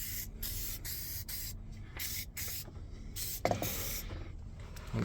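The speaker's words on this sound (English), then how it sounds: "Let's get some spray." Aerosol can sprayed onto engine bolts during a head gasket job on a Hino N04C four-litre diesel, several close hissing bursts with short pauses and small metallic clicks between them.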